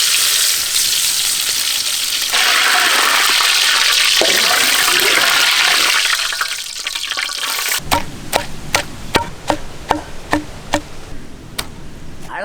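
Cinnamon and whole spices hitting hot sesame oil set off a loud, close, roaring sizzle for several seconds. It then thins out and is followed by a run of about a dozen sharp, rhythmic knocks.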